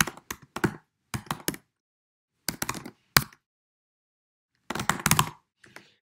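Computer keyboard typing on a Mac while entering a username for a remote desktop login, heard as short bursts of clustered keystrokes separated by pauses, close and clear with no talk.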